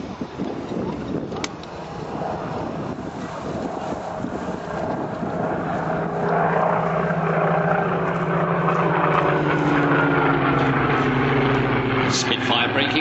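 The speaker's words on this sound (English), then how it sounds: "Spitfire braking left, Hurricane braking right now, and what a great sound and sight that fly past was" A Second World War Spitfire and Hurricane make a memorial flypast at the Biggin Hill airshow. The droning propeller engines swell from a distant hum to a loud, steady roar, with gusty wind noise throughout.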